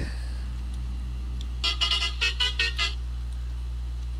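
A bus horn in the Euro Truck Simulator 2 driving game, on a Tamil Nadu state bus run from Coimbatore to Ooty, blares in a quick rhythmic series of about six honks over a steady low engine drone, with no talking.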